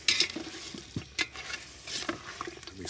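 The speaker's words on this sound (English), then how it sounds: "We stir that around for a second or two." Double cream is stirred into a sizzling masala in a frying pan, with soft scraping and clinking of a utensil against the pan over a low, steady sizzle, close and fairly quiet.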